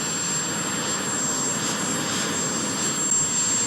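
The president's personal helicopter passes overhead above Washington. Its engine and rotor make a steady, broadband roar that fills all 3.7 seconds, with no voices.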